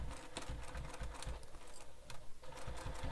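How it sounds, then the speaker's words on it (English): A sewing machine stitches along a folded fabric edge for a bag, a continuous rapid mechanical patter running steadily at close range without any voices. "Now we're going to sew this folded edge using the seam allowance given in the pattern."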